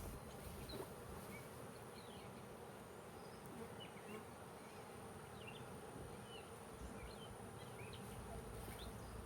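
Honeybees from a rescued swarm hum steadily while they are moved into a new hive. The buzz is dense and constant and stays at even loudness throughout, with faint chirps of single bees rising above it.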